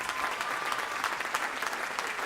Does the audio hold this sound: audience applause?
yes